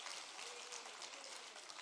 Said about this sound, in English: I want you to clap your hands and praise him